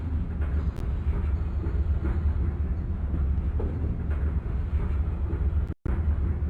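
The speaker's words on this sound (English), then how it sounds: "Carefully easing off the throttle, I slow the Acela Express down to a more manageable pace before approaching the next track marker" An Acela Express train runs steadily in a train simulator game, with a continuous low rumble and rolling track noise at an even, moderate level and a very short dropout near the end.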